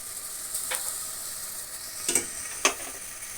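Onions, green chillies, cumin and garlic fry in a pan for egg curry, a steady soft sizzle with a few louder stirring scrapes near the end, close and without talk.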